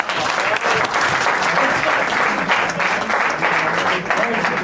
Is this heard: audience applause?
yes